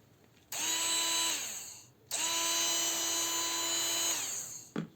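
A cheap battery-powered cordless mini saw runs alone in two bursts, its whine steady and close, then spinning down after each release; the second run is longer.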